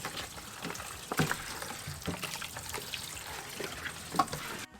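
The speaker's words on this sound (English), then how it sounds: "right now I'm cleaning the chicken with water and lime juice, and I'm making sure I'm getting the outsides and the insides" Raw chicken is rinsed by hand in a bowl with running water and lime juice, with a close stream of tap water under irregular splashes and sloshes as the pieces are turned and rubbed.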